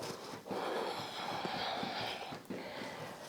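Deep breaths drawn in during a rebounding workout, a long noisy inhalation followed by another sharp intake, close and fairly soft, with no speech.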